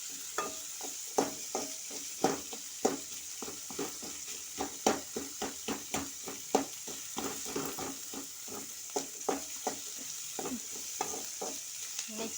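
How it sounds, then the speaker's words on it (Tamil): Small onions (shallots) fry in a pan, a soft constant sizzle broken by irregular clicks and scrapes from stirring, close by, with no one speaking. "வந்து சின்ன வெங்காயத்தை போட்டிருக்கோம். நல்லா வதங்கணும், கருகவும் விடக்கூடாது."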